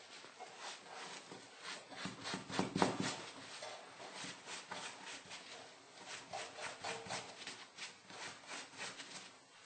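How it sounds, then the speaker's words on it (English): Bone nut for a banjo being rubbed with 4/0 steel wool, a soft repeated scratchy rasp in quick even strokes, close and quiet, swelling briefly louder early on, with no voices. "now a piece of 4/0 steel wool will finish the job pretty nicely"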